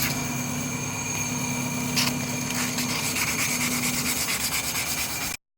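Machining a workpiece into a 40 mm radius hemisphere during final finishing, with a steady whirring, rubbing tool noise and a sustained machine hum, close and continuous before stopping abruptly.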